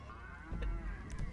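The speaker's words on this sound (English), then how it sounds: "I just heard a cow" A cow moos once in GTA Online, a short, fairly close low call standing out over quiet game background without talk.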